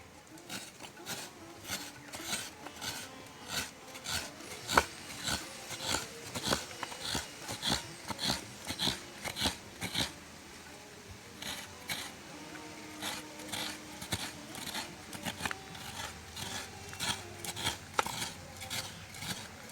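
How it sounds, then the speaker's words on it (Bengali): Coconut grated by hand for Bengali puli pitha, a close, quiet run of rhythmic scraping strokes, repeated steadily with brief pauses and no talking. "এবার নারকেল কুড়ে নেবো"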